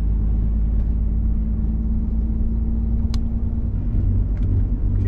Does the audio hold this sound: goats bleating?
no